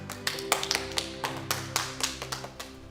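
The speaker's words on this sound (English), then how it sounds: "this room of 28-year-old children clapping" A room of people clapping, scattered uneven claps over a steady hum, moderately quiet and without talk.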